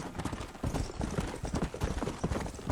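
Horse hooves clip-clop steadily at a walking pace in Red Dead Redemption, a rhythmic run of hollow knocks that stays fairly close and carries on with no pause.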